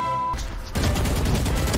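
Rapid bursts of gunfire in a shooter video game, loud and dense after a brief tone, continuing without pause to the end.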